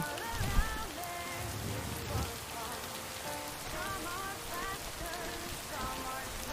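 Steady rain falls in the video game Lake, a continuous hiss that runs the whole time under game music with tonal melodic lines and some low thumps near the start.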